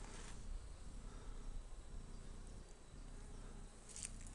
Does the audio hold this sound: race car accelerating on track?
no